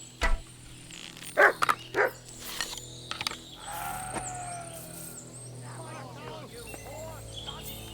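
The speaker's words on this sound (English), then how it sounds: "Someone call off that mutt!" A guard dog barks in the medieval game Kingdom Come: Deliverance II, giving a quick cluster of three or four sharp, close barks early on. Game ambience and voices follow.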